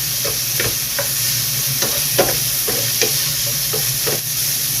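Laing, a Bicolano taro-leaf dish, sizzles steadily in hot oil in a pan, a continuous close frying hiss broken by repeated stirring scrapes and soft spattering bursts, with no talking.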